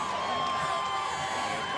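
Large arena crowd at a Gonzaga versus Portland college basketball game in the McCarthy Athletic Center, a steady wash of cheering and crowd noise just after the final buzzer.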